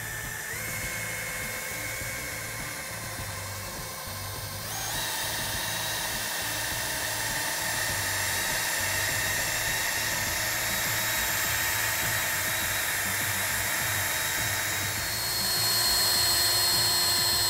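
Handheld drill spinning a polishing pad over car paint with polish to remove scratches, a steady high whine holding throughout and stepping up in pitch and loudness partway, running alone with no talk.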